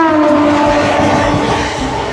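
Howrah–Digha local train pulling out of Uluberia station toward Bagnan, a loud steady rumble of carriages with a sustained horn tone riding over the rolling rail noise throughout.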